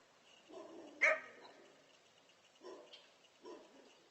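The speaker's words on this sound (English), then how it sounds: "I must have pissed off all the other dogs in the neighborhood" Neighborhood dogs bark from a distance outdoors in a rural setting, with a few scattered, faint yips and barks spread irregularly across the stretch and one sharper bark standing out.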